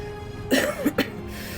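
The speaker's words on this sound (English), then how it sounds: "Laughs and coughs at the same time." A man coughs and laughs at once, a brief burst of laughing breath broken by two sharp coughs, close and clear with nothing else sounding.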